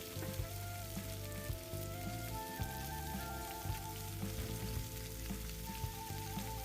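Silver beet sizzles with other vegetables in a hot pan in a boat galley, a soft, steady crackle and hiss running throughout alongside a quiet tonal musical background.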